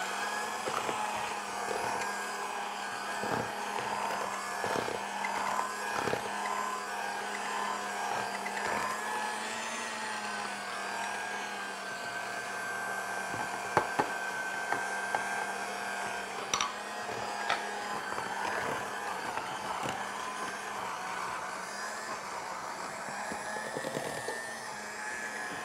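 An electric mixer beats butter for almond and dried-fruit biscotti dough, a steady whirring motor drone that runs throughout, with a few faint knocks and clatters mixed in.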